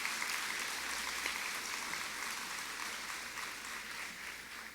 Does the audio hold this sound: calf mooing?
no